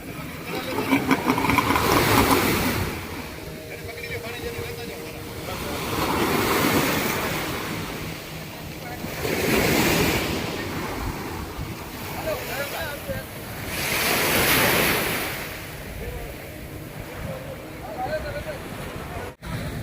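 Sea waves at Shivrajpur beach near Dwarka wash in with slow, repeated surges roughly every few seconds, a continuous close surf with wind noise throughout.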